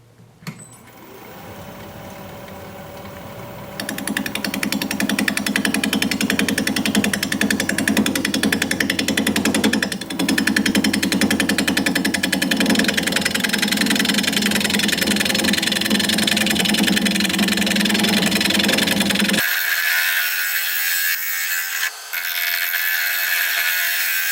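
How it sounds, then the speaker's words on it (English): A wood lathe spins a driftwood bowl at 650 RPM while a 5/8 inch bowl gouge cuts it, a loud steady rumbling roar with rough chattering that starts a few seconds in and runs continuously, its tone shifting near the end. "We're going to be turning at 650 RPM, 5/8 inch bowl gouge, mask and face shield on."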